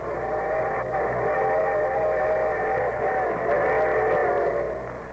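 A steam-style train whistle from an old radio broadcast sounds a sustained multi-tone chord, steady and moderately loud with a slightly muffled, old-recording quality, fading at the end.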